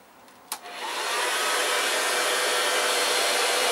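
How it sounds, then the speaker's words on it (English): A click, then a hair dryer whirs up to a steady, loud rushing blow of hot air, warming a Kawasaki Z1000 motorcycle tyre, continuing evenly to the end. "warm them up by blowing hot air around them using Mrs."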